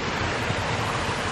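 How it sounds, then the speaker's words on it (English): A large waterfall pouring into a stream that feeds a koi pond, a loud, constant broadband rush of falling water, close and unbroken. "which is fed by this large waterfall here"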